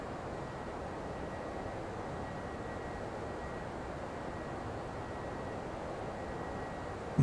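An aircraft's engines drone steadily in flight over Denmark in the X-Plane 11 simulator, a faint, even rushing hum with no change in pitch.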